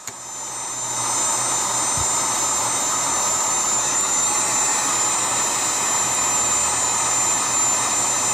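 A faulty power supply circuit board is heated with a steady roaring whoosh of hot air that swells up in the first second, then holds loud and even, close by, with a faint low hum underneath and no talking.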